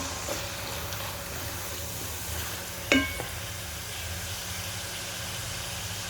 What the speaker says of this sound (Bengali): লং, এলাচ, দারচিনি আগে দিয়ে দিচ্ছি।